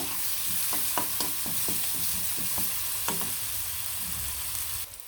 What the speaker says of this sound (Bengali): পেঁয়াজগুলো ভালো করে সুন্দর করে লাল লাল করে ভেজে